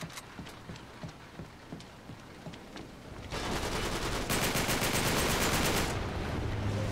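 Gunfire in the video game Uncharted 3: first a series of spaced single shots, then a dense, loud sustained burst of rapid automatic fire with crashing impacts.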